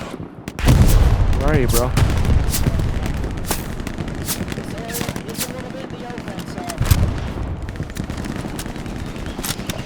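Gunfire in a shooter video game, with several sharp shots spread across the clip and one heavy burst near the start, set against a continuous game background. Players talk over the action.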